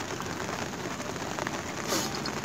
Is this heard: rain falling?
yes